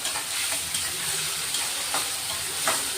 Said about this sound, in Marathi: कांदे चांगले परतून घेणार आहे.